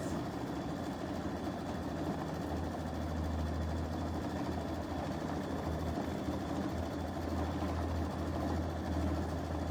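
A sewing machine stitches the veins onto a quilted poinsettia coaster, producing a steady, continuous motor hum with a low drone that runs unbroken from start to finish, close by and with no talking.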